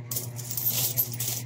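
Coins clink and rattle as they spill from an opened piggy bank, a continuous close metallic jingling of many small pieces tumbling together, loud and busy, with no voices.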